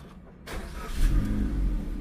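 A car engine cranks and catches, then settles into a smooth, steady low idle close by.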